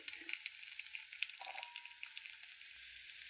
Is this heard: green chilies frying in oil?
yes